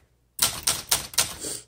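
Close, crisp typing on a 1965 Olympia SM9 manual typewriter: four or five rapid sharp key strikes in a quick, even burst after a moment of silence.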